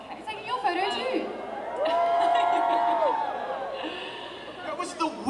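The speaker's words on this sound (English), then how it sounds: "That was the weakest woo I've ever heard" An LA Comic Con 2018 Agents of Shield panel audience gives a thin, half-hearted woo, a short swell of scattered whoops and cheering that fades under crowd chatter.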